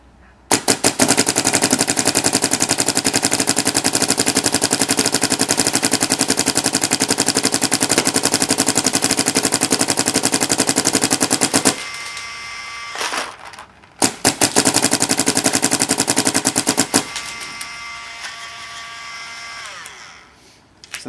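A Macdev Clone paintball marker fires uncapped in ramping mode, a loud, dense, rapid stream of shots lasting about twelve seconds, then a short pause and a second long burst that cuts off, with brief quieter gaps between.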